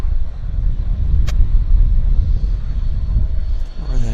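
Four-engine Whisperliner jet at Vancouver Airport, a steady loud broadband engine roar with low rumble holding throughout, close and uninterrupted.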